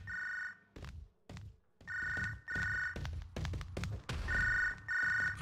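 A cell phone rings in the wrestling game Wrestling Empire, a bright repeating electronic tone in short bursts, interspersed with thumps and game noises.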